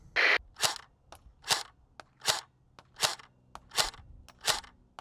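A $50 airsoft M4 rifle fires single shots at a target 50 feet away, about eight sharp snapping pops spaced roughly half a second to a second apart, close and crisp with no talking.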